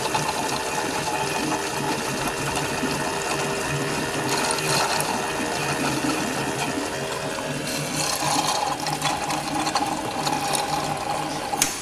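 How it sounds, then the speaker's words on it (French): Used power steering fluid being pumped out through a hose into a reservoir during a power steering flush, a steady liquid gurgling and pump whir that runs continuously with no talk. "on voit l'huile usée qui vient ici dans le tuyau et puis qui va remplir ce réservoir là"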